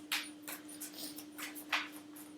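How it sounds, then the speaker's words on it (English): A deck of oracle cards gets shuffled by hand, a few quick papery riffles and soft flicks in close succession over a faint steady hum, with no talking. "We'll give these a shuffle then."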